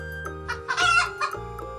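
A hen clucks and squawks in short bursts over a children's alphabet song, the bird calls rising loud in the middle against a sustained musical backing.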